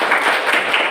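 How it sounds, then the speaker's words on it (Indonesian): A classroom of students claps their hands together in a brief, dense burst of close clapping. "kita tepuk tangan dulu sama-sama"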